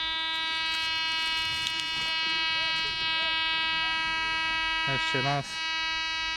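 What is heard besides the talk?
MD 350 metal detector beeping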